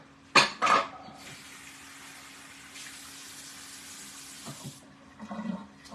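Running water from a tap pours steadily over sliced eggs in a kitchen, a sustained rush that builds after a couple of sharp clatters and then cuts off, with faint handling noises at the end.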